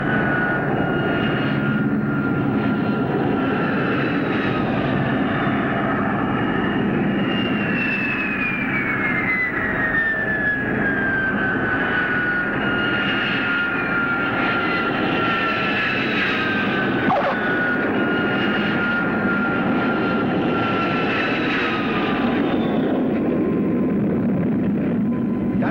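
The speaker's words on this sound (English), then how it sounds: "That's what I call a perfect landing." A fixed-wing airplane, from the 1951 film Air Cadet, touches down on a runway with a loud, steady roar of engines, gliding pitch sweeps running across the clip with no talking.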